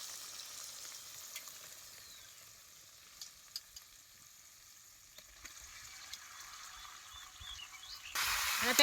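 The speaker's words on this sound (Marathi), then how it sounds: "आता हे चिकन बी तेलात चांगलं खालवर करून घ्या" Chicken pieces fry in oil for a village-style chicken shorba, a faint steady sizzle with occasional light clicks of stirring, swelling to a louder hiss at the very end.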